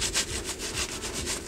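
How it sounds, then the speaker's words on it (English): A bike part is rubbed clean by hand after a damaged screw has been removed, making a quick run of rhythmic, even scrubbing strokes close by with no voices. "Give it a bit of a clean."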